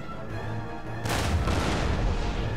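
Massed musket volley in Empire: Total War, a sudden broadband crackling burst of many shots at once that swells after a quieter battlefield ambience and rolls on as a dense, sustained fusillade.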